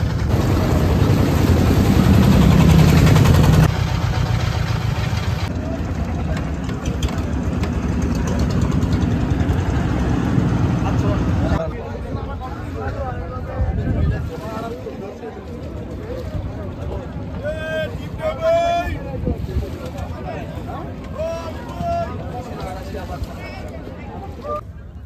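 Motorboat engine carrying tourists toward the white-stone spot at Bholaganj, Sylhet, a steady loud drone throughout with a louder roar at the start, voices talking over it later on.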